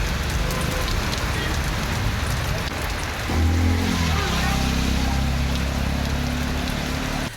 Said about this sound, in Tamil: 1 மணி நேரத்திற்கு மேலாக மிதமான மழை பெய்தது